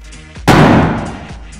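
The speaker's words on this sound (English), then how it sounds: "the hydrogen explosion." A hydrogen and oxygen mixture explodes in a science demonstration: one sudden loud bang, close by, followed by a roaring decay over about a second, with quiet before it.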